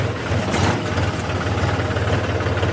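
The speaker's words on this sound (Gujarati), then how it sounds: "ટ્રેક્ટર લઈને રવાના થઈ ગયા છીએ" Steady low rumble of a tractor engine running nearby while hauling a load of groundnuts, with a rhythmic throbbing pulse throughout.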